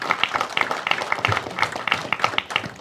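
Applause at a school board of education meeting honoring a top-ranked Michigan elementary school, a scattered mix of claps with irregular peaks, moderately close and fairly quiet, with no voices over it.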